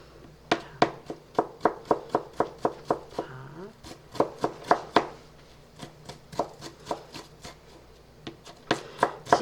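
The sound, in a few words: knife chopping sliced garlic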